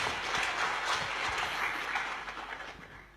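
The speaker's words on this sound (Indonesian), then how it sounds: "Kita beri tepuk tangan saudaraku." Church congregation applauding during a service, a dense, steady wash of clapping from many hands that fades slightly toward the end, with no talk over it.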